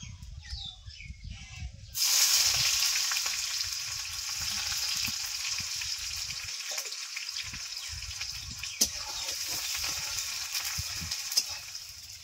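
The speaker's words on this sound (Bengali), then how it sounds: "পেঁয়াজটা ভাজা ভাজা হয়ে গেছে" Finely sliced onions hit hot oil with whole cumin in a pan, setting off a sudden loud hiss after a few quiet handling thumps, then settling into an even, close sizzle with occasional clinks.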